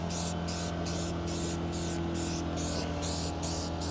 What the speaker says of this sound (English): And with this aerosol spray, it makes it super easy to apply